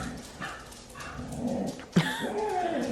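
During hurricane prep at a home, a dog barks at workers boarding up the house, with one sharp close bark over steady background noise and faint yips around it.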